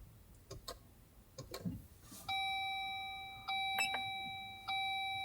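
A 2.0L Jeep Wrangler JL sounds its electronic chime at ignition-on, three clear repeated ding tones ringing out after faint clicks and handling noise.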